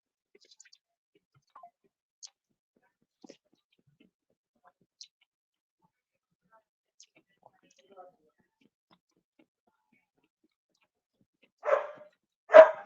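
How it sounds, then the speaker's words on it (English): A dog barks twice, sharp and fairly close, at the very end of the clip. Before that the room is nearly silent apart from a few faint clicks. "I'm sorry for hearing my dog"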